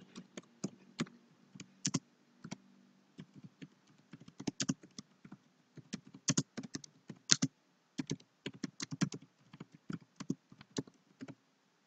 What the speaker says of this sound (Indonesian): Kemudian kita ketik pertanyaannya.